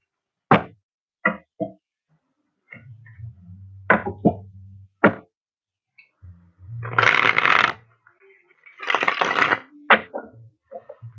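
Tarot cards are shuffled in several crisp bursts of riffling and snapping, with single sharp taps and low knocks of the deck on a surface between them, close and clear in a quiet room.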